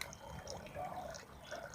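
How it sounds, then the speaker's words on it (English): Pond filter water flows out into a garden bed, a faint steady trickle and burble running throughout with no one talking. "just the filter water from the pond coming up from here"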